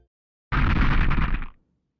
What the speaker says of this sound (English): for the explosion, I like to low pass it so the low end rings out